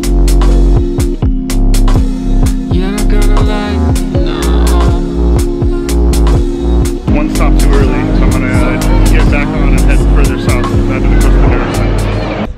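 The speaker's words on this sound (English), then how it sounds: "Cable car heading down." A Teleferico cable car in Santiago, Chile travels down the hill with a loud, steady mechanical hum and drone, broken by frequent sharp clicks and rattles and some background voices.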